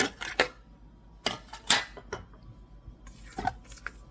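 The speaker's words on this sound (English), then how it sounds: "We're definitely going to scrape down the sides here." Rubber spatula scraping the sides of a mixing bowl of ginger cookie dough, in short scuffing strokes with quiet gaps between them, close and fairly soft.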